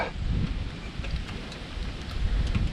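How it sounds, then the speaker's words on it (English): Steady rain pours down with a dense hiss and low rumble, continuous and close, with no voices. "Oh, it's raining again."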